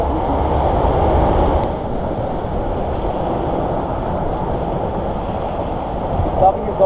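Loud, constant rushing and splashing water on an amusement park water ride at Hellendoorn in the Netherlands, mixed with wind buffeting and voices talking nearby.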